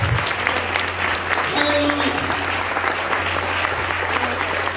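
A church congregation applauds steadily for about five seconds, a dense and even wash of clapping with a low hum running underneath.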